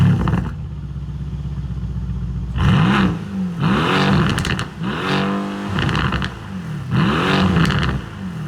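A 503 hp Mercedes-AMG C63S sedan with quad exhaust revs hard in a series of four or five loud, close throttle blips. Each rise and fall is sharp, with crackling exhaust bursts between the revs.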